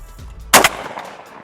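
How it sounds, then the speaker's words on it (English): A Remington V3 Waterfowl Pro shotgun fires a single loud, sharp blast at clay targets outdoors, with a short echoing tail fading afterward. "Let's just get some realistic shooting in."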